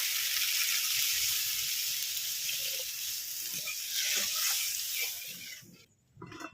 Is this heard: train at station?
no